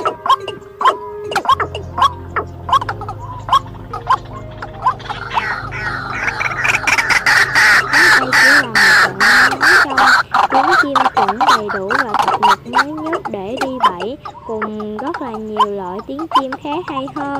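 Recorded calls of watercock and waterhen played as a bird-trapping lure, a loud, continuous run of repeated clucking and booming bird notes with a steady rhythm, growing denser toward the middle.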